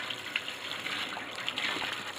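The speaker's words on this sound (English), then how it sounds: "you're just going to run them under the water until the water runs clear" Tap water runs steadily over freshly dyed shoes being rinsed in a sink, a continuous close hiss and splash with small fluctuations and no talking.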